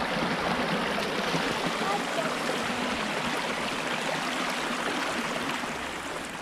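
Water rushing over a stream crossing on a rural road near Glenorchy, New Zealand, a steady broadband wash that stays loud and unbroken throughout and eases slightly toward the end.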